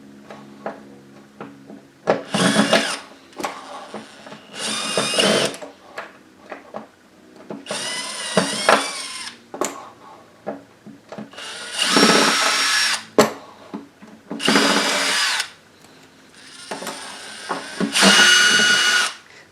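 A power tool drives out deep screws while a Technics SX KN-5000 keyboard synthesizer is taken apart, whirring in repeated short bursts with clicks and handling knocks between them.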